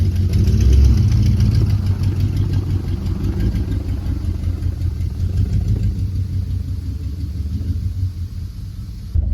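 An old 1970 Jeep Wagoneer engine, revived after sitting for years, runs steadily with a deep, loud rumble and idle throughout, sounding rough and strained without pause.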